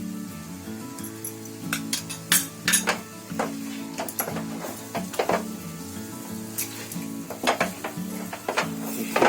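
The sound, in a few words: modak rice flour dough stirred in ghee in a pan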